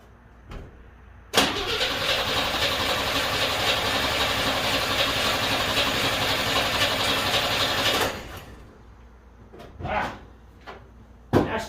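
A 1963 Rambler engine catches after a few hits of gas and runs loud and rough for about six seconds, then cuts out, followed by a few faint clunks.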